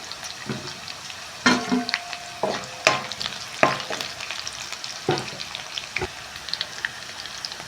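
Vegetables, onions, green chillies and peanuts frying in a pan for sabudana khichdi, a soft sizzle punctuated by sharp clanks and scrapes of a spoon against metal, close up with no talk.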